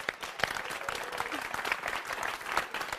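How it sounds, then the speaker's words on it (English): An audience claps steadily for a contest winner in a dense, sustained burst of applause, with a few whoops and voices mixed into the crowd. "Now, we're all applauding you."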